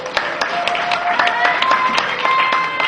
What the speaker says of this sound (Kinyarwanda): tuyongera amashyi n'Imana